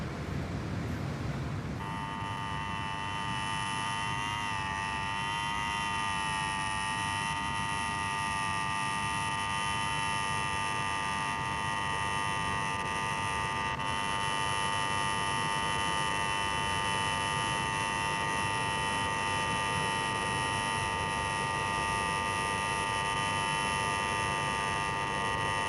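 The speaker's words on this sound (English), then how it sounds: "Take your finger off that bleeding buzzer." A buzzer held down continuously, a harsh steady electronic drone that starts abruptly and sounds loud and unbroken for over twenty seconds.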